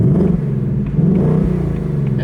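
Exhaust of a 2024 Ford Mustang GT with the premium 401A package and performance pack, set to track mode, rumbling loudly and close up in a deep, steady drone with slight surges, no voices over it.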